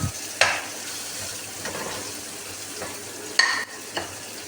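Green chillies frying in a pan of masala for dal, a steady sizzle with a few sharp scrapes of a stirring spoon against the pan.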